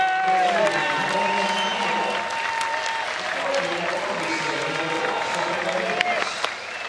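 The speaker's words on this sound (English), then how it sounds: "And we're up here applauding for both of the teams" A crowd at a Little League baseball game in the 2016 Little League World Series, Bend, Oregon against Goodlettsville, Tennessee, applauds in sustained, fairly close clapping while a commentator talks over it.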